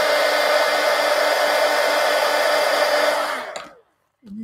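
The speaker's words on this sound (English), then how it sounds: "Well, I'll hit it with the heat gun." A heat gun blows steadily and loudly while drying craft paint on a collage journal page, a constant roaring whoosh for about three and a half seconds before it cuts off abruptly, followed by a brief faint knock.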